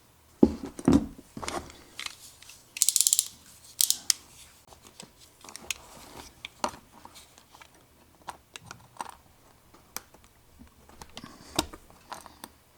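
Wire snipped with scissors or cutters at a soldered joint on N scale model railroad power switch wiring, with sharp clicks and snips repeating through the clip amid quiet handling noise.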